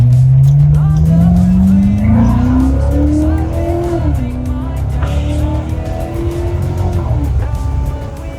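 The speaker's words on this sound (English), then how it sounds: "The exhaust kind of has a little bit of a burble to it." Chevrolet Corvette C7 Stingray with a 6.2-liter V8 accelerating, its exhaust climbing in a loud burbling roar through a couple of upshifts, heard close and continuous without talk.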